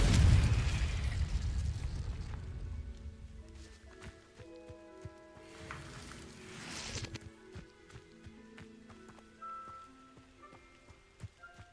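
A Confringo explosion spell cast in Hogwarts Legacy opens with a loud boom that fades over a few seconds into crackling debris and scattered pops, with a second rushing burst around the middle.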